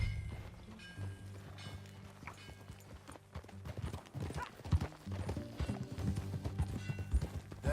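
Horse hooves clip-clop steadily while riding in Red Dead Redemption 2, a close, rhythmic trot over a low game music bed, with a brief whinny and light background sounds.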